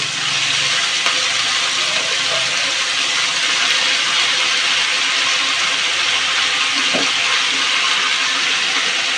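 Cut and washed potatoes fry with yardlong beans in a pan, a loud, continuous sizzling hiss that holds steady without break.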